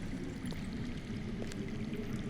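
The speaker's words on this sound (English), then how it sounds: "That's water. I hear water. From underground." Flowing water trickles and rushes softly from underground in a dark area of a Game of Thrones video game, a continuous muffled stream with faint splashes and no speech.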